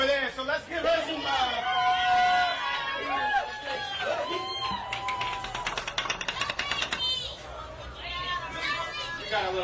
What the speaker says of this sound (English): We got a little crowd going on here, ladies and gentlemen.